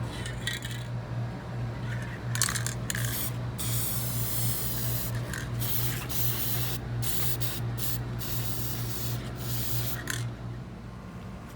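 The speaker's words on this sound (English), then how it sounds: "We're gonna use this product to spray the color on the leaf and turn it in gold." Close bursts of gold spray paint hiss on and off in short and longer puffs onto bouquet leaves over a steady low hum, with no talking.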